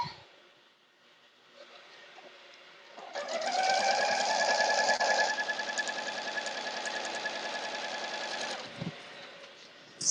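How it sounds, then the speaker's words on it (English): A sewing machine stitches a snowball ninepatch quilt block, ramping up into a steady, loud whirring hum that holds for about six seconds before stopping with a small clunk. "I'm just going to pretend I'm a tiny little girl sewing at my mommy's machine"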